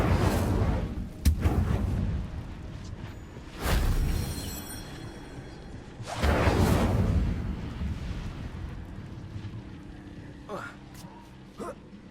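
A spell burst from the Hogwarts Legacy video game crackles out as a loud whooshing blast, repeated a few times with rumbling tails, with a voice heard in the clip over the game audio.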